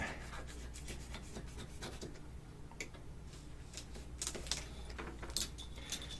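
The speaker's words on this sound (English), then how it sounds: "And again, I'm sawing." Soft, irregular rasping strokes of a hand saw cutting through material for miniature wargaming ruin walls, fairly quiet and close, with scattered ticks and clicks between strokes.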